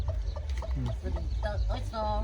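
Chickens cluck repeatedly in short, close calls over a steady low background hum, with the hens' voices overlapping across the stretch.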